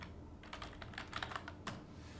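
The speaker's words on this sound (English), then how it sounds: "if I delete all of this and I type lightsaber again" Fast typing on a computer keyboard while entering a word in Microsoft Word, a close run of light clicking keystrokes with a brief pause midway, heard alone.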